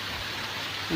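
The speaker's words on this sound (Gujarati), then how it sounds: "વરસાદ તો ચાલુ થઈ ગયો" A brief stretch of steady rain hiss, an even wash of noise with no voices.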